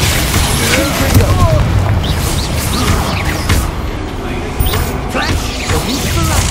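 Confringo fire-blast spell booming in a Hogwarts Legacy battle, loud overlapping bursts and rumbles filling a dense combat soundscape, with voices shouting spell names throughout.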